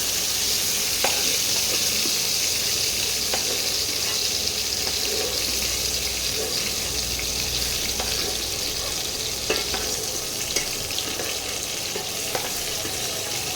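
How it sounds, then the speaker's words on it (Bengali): Eggplant slices fry in oil with a continuous close sizzle and crackle, broken now and then by soft clicks of a spatula, with no voices. "বেগুনগুলোকে একটু ভেজে নেব"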